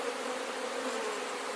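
Honey bees swarm around an opened beehive during a hive check, filling the moment with a dense, steady close-up buzz and no talk.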